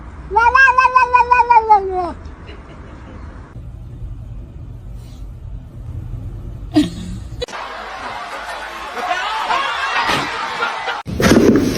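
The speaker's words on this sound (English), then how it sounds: "His meow is so cute." A cat gives a loud, drawn-out meow up close, followed by a quieter stretch and then noisy rustling, laughter and other household sounds.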